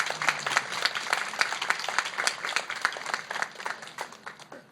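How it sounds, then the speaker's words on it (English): An audience at a Baldwin County Removal Day celebration claps for an archivist and her staff, a fairly quiet, scattered round of applause that thins out toward the end. "I would like everyone to give Felicia and her staff a big round of applause"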